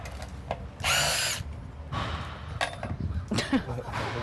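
A power drill driving decking screws into wood, a short loud whirring burst followed by further drilling and rattling, close by with a mix of workshop clatter.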